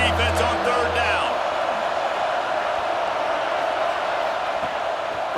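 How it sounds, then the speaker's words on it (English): A college football stadium crowd roars for the defense on a 3rd down in a USC–UCLA rivalry game, a steady wash of cheering that holds at a constant level throughout while a commentator talks over the start. "Decibels rising as the crowd gets behind this defense on 3rd down"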